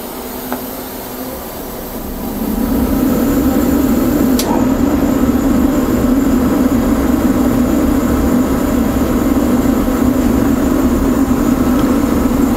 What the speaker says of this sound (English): So I'm going to turn the exhaust fan on now